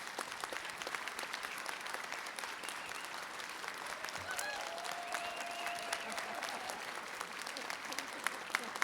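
Sustained audience applause at a university winter commencement ceremony as faculty members rise, a dense even clapping from a large crowd lasting the whole stretch, with faint voices mixed underneath.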